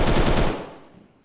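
Rapid automatic gunfire from a competitive bomb-defusal shooter match, a loud burst of about five quick shots in the first half second, then fading reverberant tail.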